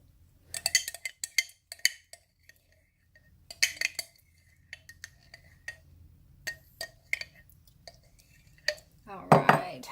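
A spoon scooping food, heard as bursts of metallic clinks and scrapes against a dish in several separate clusters, with quiet gaps between and a louder rustling burst at the end; no speech.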